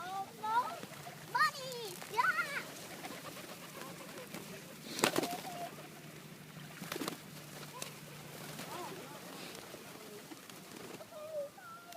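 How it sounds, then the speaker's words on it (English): Pigeons and other birds coo and call near water where fish are being fed, soft intermittent calls mixed with splashes and a child's and adult's voices talking nearby. "Oh, the birds."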